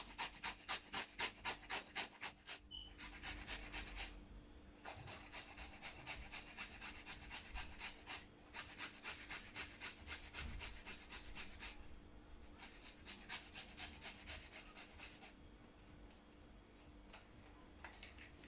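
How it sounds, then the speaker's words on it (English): Fresh ginger is rubbed against a grater in a fast, steady back-and-forth rhythm of rasping strokes, close and fairly quiet, with a few short pauses between runs. "And grate your ginger."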